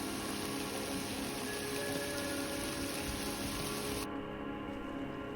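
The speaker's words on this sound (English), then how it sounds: "How about this rain, huh?" Steady rain falls on a mountain trail, a continuous broadband wash of drops with a low rumble underneath and no voices.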